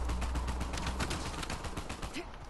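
Rapid automatic gunfire from an Uncharted 4 multiplayer match, a steady close stream of sharp shots rattling for a couple of seconds with no talk over it.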